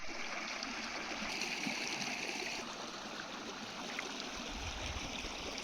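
River water rushing steadily over rocks in a small rocky river, a continuous broadband stream sound that stays fairly even from start to end with no voices.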